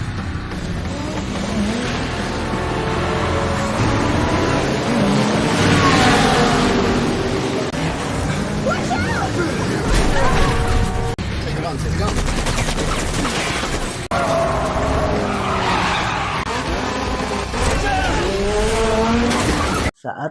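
Race cars roar through a chaotic race scene from the film Death Race 2, with engines revving, tires squealing and bursts of gunfire, loud and dense with some voices mixed in.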